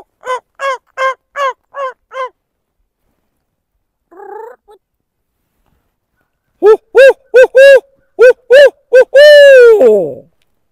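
A hunter imitates an owl with a hooting call in the woods, a series of loud, close, evenly spaced hoots, then a short muffled note and a final rapid run of hoots ending in a drawn-out trailing call.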